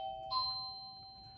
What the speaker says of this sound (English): Y'all just hear somebody ring my doorbell.